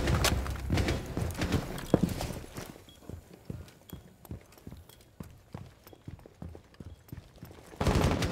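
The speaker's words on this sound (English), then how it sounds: "Swapping mags." Sharp mechanical clicks and clacks from a magazine swap reload in Rainbow Six Siege, scattered irregularly over a low game background with loud rattling bursts at the start and end.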